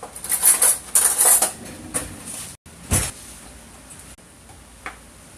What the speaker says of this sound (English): we're going to take those bananas and we're going to squish them up